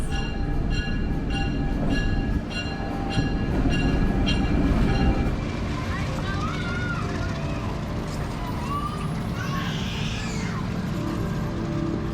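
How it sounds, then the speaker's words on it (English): A train arrives at a station, rumbling steadily nearby with a deep, continuous roll and metallic squeals, while people talk over it. "Wait for the train right here at the station. And here she comes."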